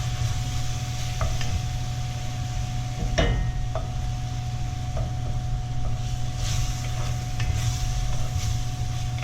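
Wine reduces in a hot pan for a seafood cioppino, a steady close sizzle and bubbling hiss running throughout with a low hum beneath and a few faint clinks.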